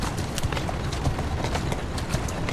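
Horse hooves clip-clop steadily in Assassin's Creed Syndicate, a continuous trotting rhythm set against a busy street ambience.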